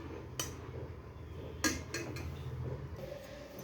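Cooked greens scooped from a pot into a bowl, with a few metallic clinks and scrapes of a spoon over a steady low background hum.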